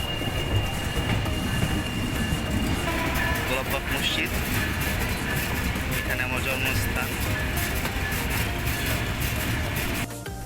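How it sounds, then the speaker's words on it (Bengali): A Rupshi Bangla Express train from Dhaka to Benapole rumbles steadily along the tracks, crossing bridges, with loud, continuous clatter and roar throughout, while someone talks over the noise. "খুব দ্রুত গতিতে চলছে আমাদের ট্রেন"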